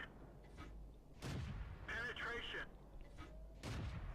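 Tank cannons boom in World of Tanks gameplay as a T71 engages an IS-3, several heavy blasts with rumbling tails over a steady engine drone while a voice speaks.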